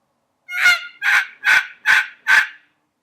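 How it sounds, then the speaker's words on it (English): Five evenly spaced turkey yelps made on a Cutt and Run turkey reel call, each a loud, clear, raspy note with short gaps between, played alone in otherwise silent surroundings. "That's just at the cadence that I want my yelps to be."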